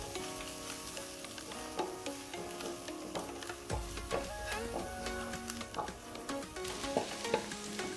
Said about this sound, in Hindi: अब हम इसके अंदर हाफ टी स्पून लहसुन अदरक का पेस्ट ऐड करेंगे और इसको इतना फ्राई करेंगे